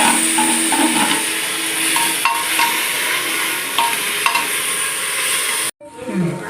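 Tomatoes tossed into browned onions frying for mutton biryani, giving a steady loud sizzle with occasional sharp clinks of a spoon against the pan, then a brief cut-off before the frying resumes.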